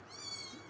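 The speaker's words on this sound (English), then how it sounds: "Did you guys hear that meow?" A lone angry house cat lets out one short, fairly close meow, high and drawn out, with no talking over it.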